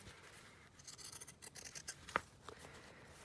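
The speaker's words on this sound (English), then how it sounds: "I'm just going to take this with my pinking shears, I think, and cut it sort of close to the actual edge of the journal now" Pinking shears snipping through old clothing fabric for a vintage journal cover, a quick run of close, quiet crunching cuts followed by a sharper single snip and a softer one.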